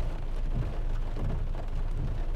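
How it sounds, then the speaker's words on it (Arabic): Heavy rain at night in Al-Khobar city falls as a dense, continuous hiss with a low rumbling undertone, steady and fairly close with no speech. "غرقت من المطر"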